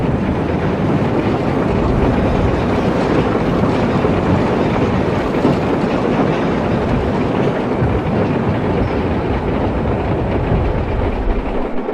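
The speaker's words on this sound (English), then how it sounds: "Edward backed away to let a train pass by." A loud, steady rumbling roar fills the whole stretch, like a train passing close by, with a constant wind-like rush and no voices.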